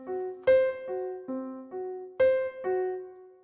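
Sustained tones stepping through intervals of six in a custom, built-in dissonant scale, each note struck separately in an uneven sequence of about eight clear, ringing pitches.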